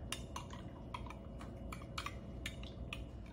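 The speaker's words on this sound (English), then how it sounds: "get a little spoon and mix it up" A small spoon clinks repeatedly against a cup while stirring pumpkin drink ingredients, a string of light, quick taps spaced irregularly, close but faint over a low steady background hum.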